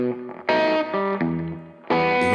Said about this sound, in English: I'm playing it through an amp that's giving it some really nasty distortion.